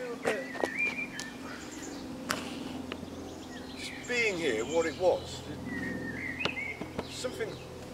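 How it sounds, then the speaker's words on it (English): Birds sing outdoors at an ancient chambered long barrow, with scattered chirps and warbling trills coming from a moderate distance, faint under people talking nearby. "Hear them birds."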